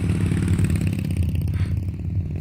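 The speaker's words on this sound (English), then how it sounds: "That's a motorcycle outside my house." A motorcycle with a faulty muffler runs outside a house, a steady rattling, clattering engine note at moderate distance, idling and lightly revving with no voices.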